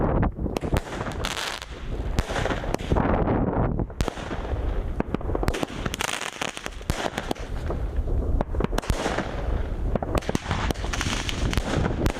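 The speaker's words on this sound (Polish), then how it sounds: "Dzisiaj robimy test wyrzutni Mami od Superpowera. Jest to wyrzutnia o numerze C5016." A Super Power Mommy C5016 firework cake, a 16-shot 20 mm battery, fires outdoors in a rapid series of sharp booms and crackling bursts, loud and close, with wind buffeting the microphone.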